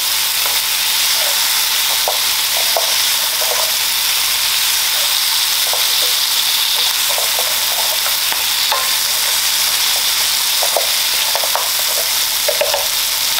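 Seasoning is stirred into rasta pasta with lobster sizzling in a hot pan: a steady, close frying hiss runs throughout, broken by irregular soft scrapes and clicks of the spoon against the pan. No one speaks.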